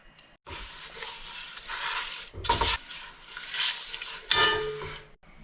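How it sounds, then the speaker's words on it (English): Butter, granulated sugar and kosher salt stirred in a pan over medium heat for churro toffee, with close, scraping strokes of a utensil that come in bursts against a faint hiss, separated by short pauses. "Put the mixture over medium heat and stir until the butter is melted."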